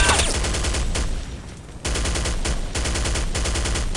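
Rapid automatic gunfire in Counter-Strike: Condition Zero, sustained bursts of loud, close shots that ease briefly before resuming.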